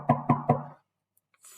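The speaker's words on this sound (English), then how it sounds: "Soon there was an angry knock on the door." Three sharp, evenly spaced knocks on a door, loud and close, followed by silence and a faint rustle.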